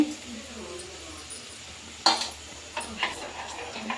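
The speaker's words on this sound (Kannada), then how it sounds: "ಇವಾಗ ಕಿವುಚ್ಕೊಂಡಿರೋ ಹುಣಸೆಹಣ್ಣು ಹಾಕ್ತಾ ಇದ್ದೀನಿ" Squeezed tamarind pulp goes into a simmering pan with a sudden wet splash, followed by faint bubbling and a few light clinks of stirring, close and quiet.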